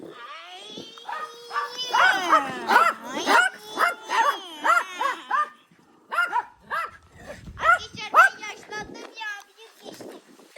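Several dogs bark and yip excitedly in quick, irregular bursts, close by, with a person's voice mixed in among the barks.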